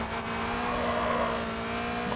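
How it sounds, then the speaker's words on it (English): A race car engine in the video game Grid 2 drones at a steady high pitch, continuous and fairly quiet, with a rough mechanical hum underneath. "I love the sound of the engine and stuff."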